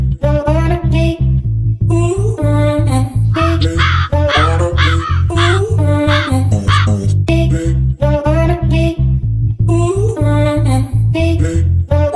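Loud, steady crow caws repeating in rhythmic bursts, heard close and alone with no talk.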